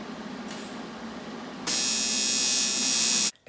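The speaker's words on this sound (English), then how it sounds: "I'm gonna ground out the welder, probably on this plate right here, and then just start tacking it." A welder tack welding intercooler piping: a steady electrical hum, a short sharp buzz, then a loud continuous hissing crackle for over a second before it cuts off abruptly.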